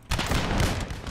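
Grenadiers firing a musket volley in the Empire: Total War video game, a single loud rolling crackle of many shots merging into one dense burst that lingers briefly.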